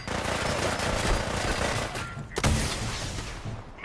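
Sustained gunfire in Fallout 4 on PS4, a loud, dense stream of rapid shots that briefly stops before a heavier blast and more firing, with no talk over it.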